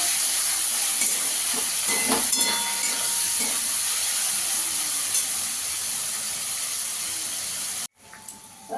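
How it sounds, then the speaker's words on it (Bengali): Chicken fries in a pan for fried rice, a loud steady hissing sizzle with a few faint clinks of the utensil, close up, cutting off abruptly near the end. "চিকেনটাকে একটু ভেজে নেব"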